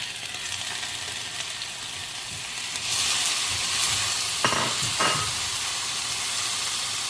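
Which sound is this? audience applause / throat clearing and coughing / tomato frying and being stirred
tomato frying and being stirred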